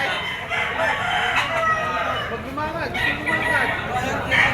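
A white-legged Boston gamecock at a Padre Garcia, Batangas market crows loudly and close, its calls rising over constant crowd chatter, clucking fowl and someone talking throughout.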